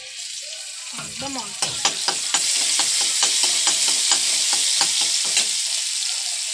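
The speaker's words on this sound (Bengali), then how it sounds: "এরপর আমরা যে রসুন বাটাটা ছিল ওটা একটু ছেড়ে দেবো" Garlic paste hits hot oil in a kadai during chicken curry cooking, bursting into a loud, close sizzle that continues under repeated scraping and stirring clicks; a voice speaks briefly.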